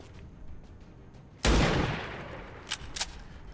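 A single loud in-game gunshot from an XCOM: Long War of the Chosen tactical turn, sharp onset followed by a decaying tail and two fainter distant pops after, over quiet ambient game sound.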